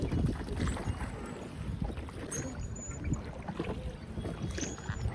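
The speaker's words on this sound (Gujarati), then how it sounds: "મસ્ત મસ્ત બોટ ચાલે છે" A boat moving steadily across a lake, with water rushing and churning alongside and wind buffeting the microphone.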